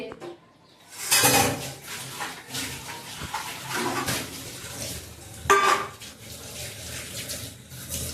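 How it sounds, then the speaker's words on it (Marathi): Pots, pans and utensils are washed and scrubbed at a sink in a home kitchen, with clanking metal, rattling cutlery and splashing water in irregular bursts, some close and loud, under occasional talk. "आता हे लगेच मी धुवून टाकते"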